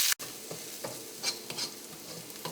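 Chopped onions fry in hot oil over ginger-garlic paste in a pan, with a close, steady sizzle broken by soft scraping and stirring clicks.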